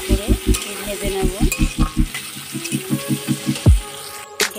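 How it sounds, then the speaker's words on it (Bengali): Chopped onions with cumin fry in a pan, crackling and sizzling as a spatula scrapes in a steady rhythmic series of strokes, followed by a brief splash and tap-like sounds near the end. "পেঁয়াজটা ভালো করে ভেজে নেব।"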